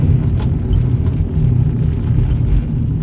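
Worn front wheel bearings on a Nissan Sentra driving at low speed give a constant loud low rumble and drone with no breaks, heard from inside the car.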